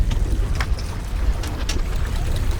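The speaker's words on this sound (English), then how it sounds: "Let me just turn the engine off" A fishing boat's engine runs steadily and close by, a constant low rumble with wind and water splash over it and no talking.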